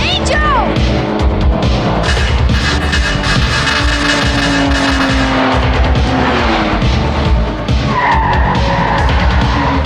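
Volkswagen with a rear-mounted engine skidding away in a getaway, loud tire squeal and revving engine filling the scene alongside dense background action sounds.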